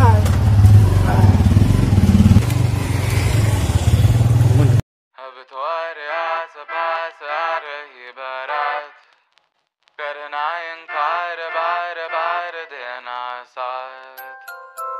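Motorcycle ride in the morning: a rough, steady engine-and-wind roar lasts about five seconds, then cuts abruptly to a song with singing and music.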